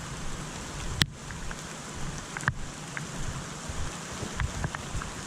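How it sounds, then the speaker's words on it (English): Steady rain pattering on surfaces all around, with a couple of sharper drips standing out against the constant hiss. "When it's raining like this, things can get really dangerous."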